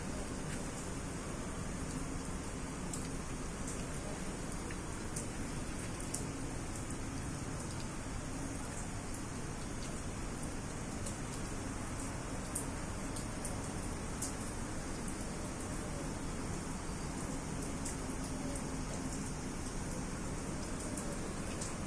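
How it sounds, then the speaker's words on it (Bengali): Light drizzle falls around a tea garden bungalow, a steady, soft, even hiss of rain lasting throughout with no voices. "এখনো গুড়ি গুড়ি বৃষ্টি পড়ছে।"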